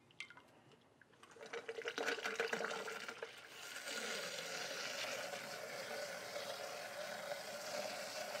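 Water rushes and splashes steadily at close range through a GrowoniX GX200 carbon filter, a continuous hissing flow that settles into an even stream after a few uneven spurts.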